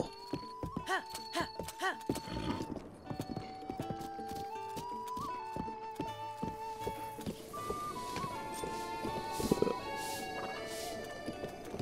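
Horse hooves clip-clop steadily in Zelda: Breath of the Wild, with a whinny early on, all set against layered game music and effects.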